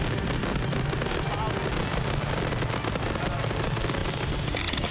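Fireworks in a pyro musical show boom and crackle continuously, a dense, loud, unbroken barrage with wind buffeting the microphone.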